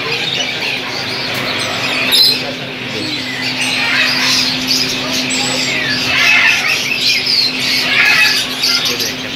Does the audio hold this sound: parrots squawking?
yes